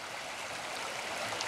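River water flowing steadily past the site of an old road crossing, a continuous broadband rush with no talk over it.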